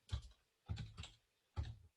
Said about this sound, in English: So I could just start typing linear layout, match parent, wrap content.